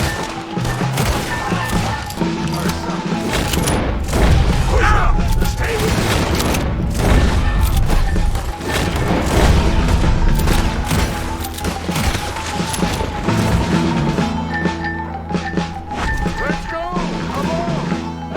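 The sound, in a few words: gunfire and explosions in the video game Red Dead Redemption 2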